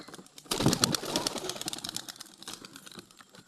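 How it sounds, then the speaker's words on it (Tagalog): Pigeons fluttering and shuffling close by, a burst of wing flaps followed by soft scratchy movement and faint cooing. "Tignan nyo, maglabasan yung mga ibon"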